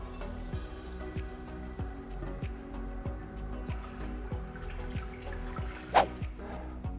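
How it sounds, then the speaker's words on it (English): Purified water, deionized or reverse osmosis, pours into an autoclave's water reservoir, a steady trickle with soft rhythmic drips and one sharper splash near the end, with no talking. "we're going to want to fill the water reservoir with either deionized or reverse osmosis water"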